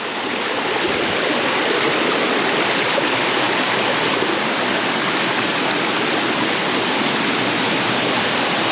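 A jungle stream rushes near a waterfall on Koh Chang, a loud, constant close roar of flowing water with no voices.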